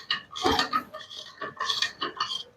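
A spoon stirs a salt and vinegar mixture in a container for a homemade snow experiment, making a few close, bright clinks and scrapes in short bursts.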